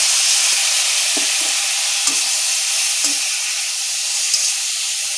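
Potatoes and eggplant fry with turmeric and coriander, moistened with a splash of water, giving a loud continuous sizzle broken by several spoon-stirring scrapes and knocks.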